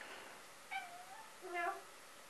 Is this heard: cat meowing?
yes